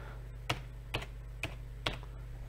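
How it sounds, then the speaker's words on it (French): Four digits are tapped on a computer keyboard's number keys, four crisp separate clicks spaced about half a second apart in a quiet room with a low steady hum. "Mon clavier est bien verrouillé, Vernum est allumé et je tape 4 chiffres."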